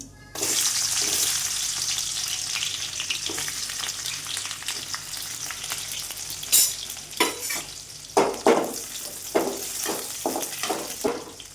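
Cumin seeds and onion dropped into hot oil in a pan for a potato bhaji, a steady bright sizzle that turns into rhythmic stirring scrapes and bursts of frying, close and alone without talk.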